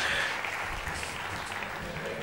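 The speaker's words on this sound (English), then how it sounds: "If you want to give a round of applause, feel free to do so." A live audience at a science debate event applauds, a dense wash of clapping that starts strong and holds steady, somewhat distant, with a faint voice beneath it.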